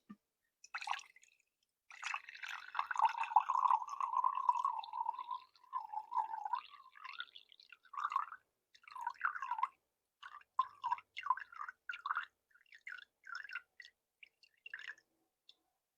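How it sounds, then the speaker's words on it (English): Water is poured into a wet ingredients bowl for raisin molasses sourdough bread, a close gurgling stream that settles into a run of small splashes and drips. "Next, we're going to add 470 grams of water."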